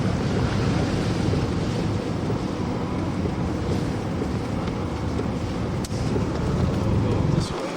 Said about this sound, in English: Just torrents of water running down the roads here.